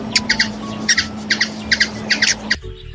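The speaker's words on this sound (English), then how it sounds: "Hummingbird." A hummingbird gives a series of short, high, squeaky chirps in quick pairs and triplets, repeated steadily over a faint background hum before cutting off abruptly.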